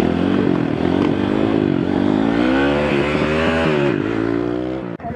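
Honda CRF 150R pit bikes rev hard while racing around a lot, their engines rising and falling in pitch with a loud, close, buzzing drone that cuts out abruptly near the end.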